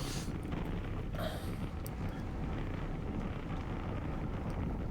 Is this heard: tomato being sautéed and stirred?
no